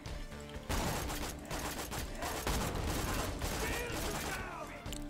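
A weapon in the game Borderlands 2 fires in a rapid, unbroken stream of loud, dense shots. The burst runs for about four seconds with mechanical clatter mixed in, then cuts off abruptly.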